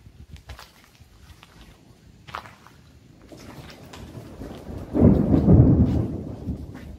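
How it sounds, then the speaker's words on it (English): Thunder from a thunderstorm at the abandoned Burwash prison: quiet patter and faint ambience build into a loud, deep rolling rumble that swells for a couple of seconds before slowly fading. "That's the thunder that you guys could hear."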